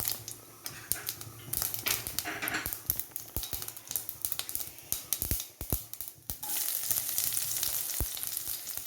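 Mustard seeds and cumin spluttering in hot oil for a banana stem and bean stir-fry, with crowded sharp pops and crackles over a hissing bed that swells louder toward the end, close by.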